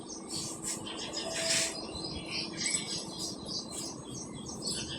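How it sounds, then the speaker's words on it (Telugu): Birds chirp outdoors on a cool morning, scattered high tweets and short calls over a soft background hiss, fairly faint and distant, with no voices. "పిట్టల సౌండ్ వస్తుంది కదా"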